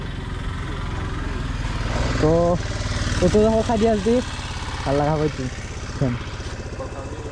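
A Yamaha MT-15 motorcycle engine idles with a steady low throb throughout, close by, while someone talks over it.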